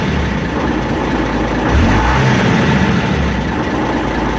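A Saurer 2DM truck's diesel engine idles close by with a steady, low, even rumble that holds level throughout.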